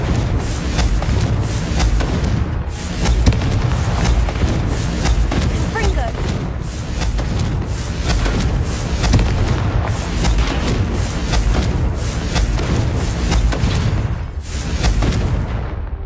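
Confringo fire spells blasting candelabras in the video game Hogwarts Legacy, a dense run of booming bursts and crackling impacts layered over game score and talk, loud and continuous throughout.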